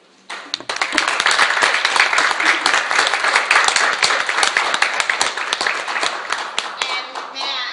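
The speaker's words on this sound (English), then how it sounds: "may I ask that when the speaker evaluator comes to the lectern, we applaud" An evening club audience applauds as the speech evaluator comes to the lectern, a dense, steady burst of many hands clapping close by that starts abruptly and continues for about seven seconds before thinning slightly.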